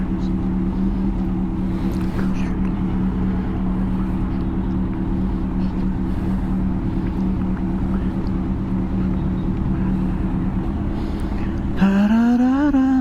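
Road traffic on a hot day surrounds a stopped motorcycle, giving a loud, steady engine drone and rumble that holds throughout, then a rising rev near the end.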